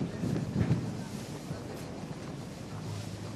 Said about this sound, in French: Ce vent qui a beaucoup de concentration du côté de Sabine.